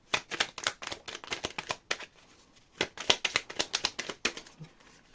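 Cards are riffled and bridged in quick bursts of crisp fluttering clicks, two shuffles close by with a short pause between them.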